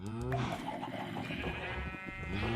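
Sheep bleating in the Minecraft video game, several wavering cries close together over a busy layer of game sound and music, with no talk.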